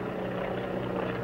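A 1930s-era plane carrying two men drones overhead with a steady propeller-engine hum, a constant low buzz at moderate loudness and no talking.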